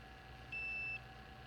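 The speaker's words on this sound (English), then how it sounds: "see how everything beeps and goes to 88" A YZ 24A device gives a single steady electronic beep during a reset, lasting about half a second, clear and fairly loud over a faint background hum.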